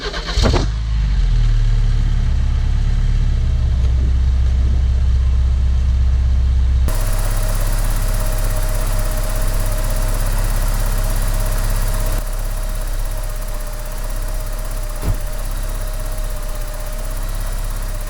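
Porsche 944 after six months of sitting cranks, fires on a cold start and settles into a steady, close idle with a low rumble and a faint whine, the tone shifting slightly as the revs drop.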